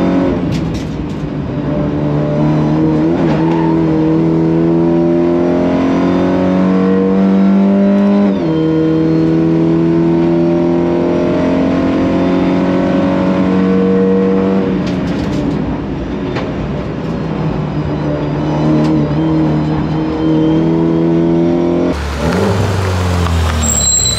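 A newly built race car drives laps on a track, its engine loud and close, rising and falling through repeated revs and gear changes, with a sharp burst of noise near the end.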